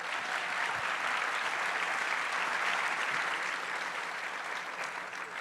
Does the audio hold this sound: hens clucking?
no